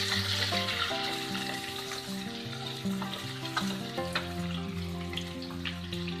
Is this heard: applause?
no